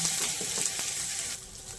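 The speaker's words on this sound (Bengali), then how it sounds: "ফোড়ন ভাজা হয়ে গেছে, 1 চামচ হিং দিয়ে দিলাম।" Steady sizzling of Bengali five-spice seeds frying in hot oil, with asafoetida added, close and continuous, easing slightly quieter near the end.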